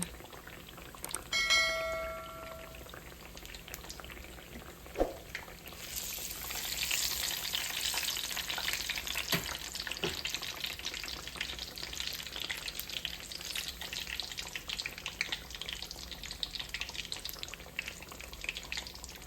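Homegrown squash frying in oil, a steady close sizzle and crackle that swells and holds throughout, with a brief clink near the start and a few faint knocks.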